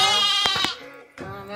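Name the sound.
sheep bleating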